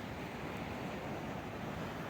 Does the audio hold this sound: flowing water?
yes